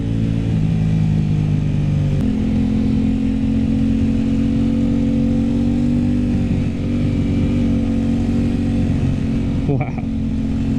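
An Aprilia RS 660 motorcycle engine under throttle, its steady loud drone rising in pitch around two seconds in and holding, with a short disturbance near the end and wind noise throughout.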